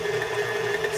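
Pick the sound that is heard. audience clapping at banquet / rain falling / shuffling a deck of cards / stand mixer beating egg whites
stand mixer beating egg whites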